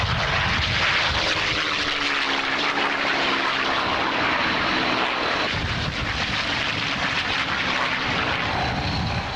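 Aircraft engines from old restored film footage drone loudly and steadily, a thick roar with sustained tonal harmonics that holds without break, close and dominant.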